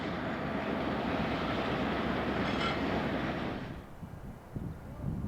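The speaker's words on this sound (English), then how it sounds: "a BRC-bound Norfolk Southern manifest is taking Pine siding to alleviate some congestion forming on the Chicago line" A Norfolk Southern manifest freight bound for the BRC rumbles steadily through Pine Junction onto a siding, a loud continuous roar of wheels and cars that fades somewhat toward the end.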